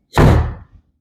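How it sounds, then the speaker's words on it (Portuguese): A door slams once, a single loud, close, heavy thud that quickly dies away into silence. "vai bater a porta"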